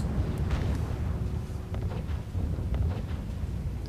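Bombing explosions hitting ground forces in the R.U.S.E. strategy game, dull rumbling booms rolling continuously at moderate loudness with no talk.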